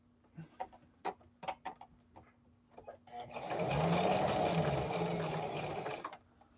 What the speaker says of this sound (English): So I'll sew this all the way to the armpit